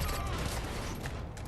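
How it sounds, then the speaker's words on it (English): A loud, rumbling explosion erupts in the Far Cry 5 video game, a dense crackling burst of noise that sounds like rapid gunfire and fills the whole moment with no voices over it. "Oh, sure, another explosion."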